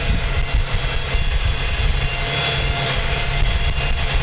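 A tractor engine pulls a plow through a field in a steady, constant gear, its loud continuous low rumble and mechanical drone running unbroken throughout with no talk.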